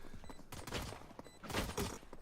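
Gunfire from a Valorant pro match in the VCT EMEA league comes as two quick bursts of rapid shots, moderately loud and close.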